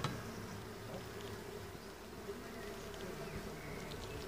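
Honey bees buzz continuously around hive frames during beekeeping work, a dense, steady, close drone with no pauses.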